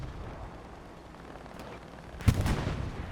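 Axis artillery fire in the World War II video game Hell Let Loose, with a single heavy boom landing mid-clip over a low rumbling battlefield background.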